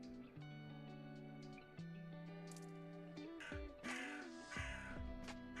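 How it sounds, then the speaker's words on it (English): Crows caw repeatedly in the Temple of Shadows video game, their harsh calls stacked over a steady, droning game soundtrack that fills the background throughout. "We're getting attacked by crows."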